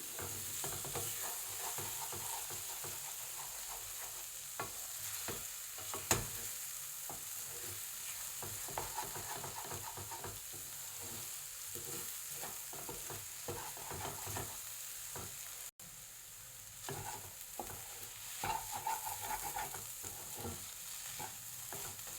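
Eggs frying with capsicum and turmeric in a pan, a soft continuous sizzle with faint stirring scrapes throughout, quiet and close with no talking.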